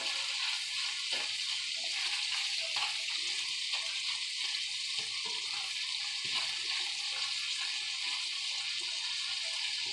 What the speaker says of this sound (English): I put a little bit of oil and then I put the bacon in